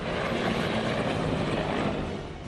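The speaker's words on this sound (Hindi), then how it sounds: "इस दौरान आसमान में बेहद ऊंचाई पर एक हेलीकॉप्टर उड़ता दिखता है" A helicopter flies high overhead over a war zone near a Russian oil depot, a continuous broadband roar and whirr that holds steady, then eases slightly at the end.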